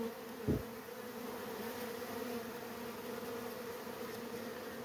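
Honeybees buzz in a steady, dense drone around a natural two-sided hive, like a swarm, soft and continuous, with one brief low bump early on.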